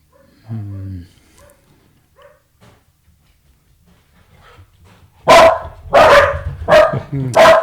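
Dogs break into loud, close barking after a mostly quiet stretch with a short sound near the start, several sharp barks in quick bursts over the last couple of seconds.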